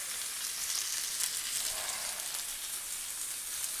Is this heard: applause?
no